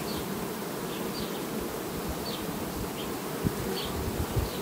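Honey bees drone steadily at an open hive during summer colony work, a dense continuous buzz close to the ear, with occasional individual bees whining past and light handling knocks.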